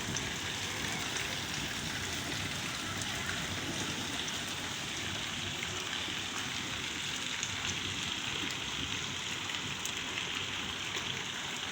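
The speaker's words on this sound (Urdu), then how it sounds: "اور ابھی بھی اتنی طوفانی بارش ہو رہی ہے" Heavy stormy rain falls in a dense, steady hiss at night, constant and even throughout with no voices.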